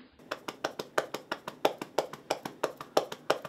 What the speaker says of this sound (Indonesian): Ayo coba tepuk. Boleh agak keras tepuknya.